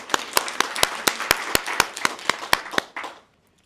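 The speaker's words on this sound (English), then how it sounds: "So applaud for them. Applause for them." Small-group clapping for student trip helpers at a SkillsUSA chapter presentation, a handful of sharp, distinct hand claps in an uneven rhythm, fairly close, fading out after about three seconds.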